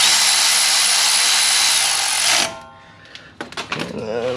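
A power tool tightens a bolt during a Rough Country 2.5-inch lift install on a 2016 Jeep Wrangler JK, whirring loudly and steadily for over two seconds before cutting off, followed by a few sharp clanks and faint handling noise.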